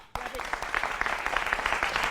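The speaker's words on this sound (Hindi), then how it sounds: "जोरदार तालियां।" Studio audience applause on a Hindi TV news debate show, a steady dense patter of clapping from the start that stays broad and even, with no voices over it.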